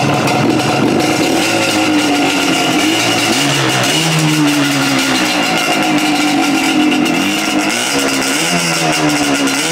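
A car engine is revved after being brought to idle, a loud continuous roar whose pitch rises and falls with each blip of the throttle, close by with no talk.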